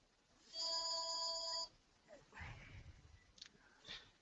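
A telephone rings with a steady electronic tone for about a second, loud and close, then stops, followed by faint movement and low background noise.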